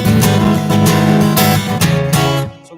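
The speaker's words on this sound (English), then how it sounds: "if we didn't mute the bottom 3 strings out with this finger, it would sound like this." An electric guitar strums a dense, ringing power chord with its bottom three strings left open, struck repeatedly in a steady rhythm of loud, full strums that sustain until a final cutoff, alone with no talk.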